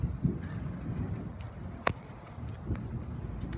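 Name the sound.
rain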